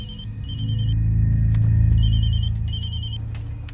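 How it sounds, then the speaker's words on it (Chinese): A telephone rings in short repeated electronic bursts over a low, loud background drone; no one speaks. "领队，电话。"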